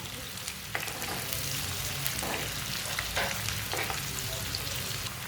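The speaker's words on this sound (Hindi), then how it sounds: "प्याज को हल्का सा ब्राउन कर लेंगे।" Onions sizzle steadily in a hot pan as they lightly brown, with occasional scraping and stirring sounds over the constant frying hiss.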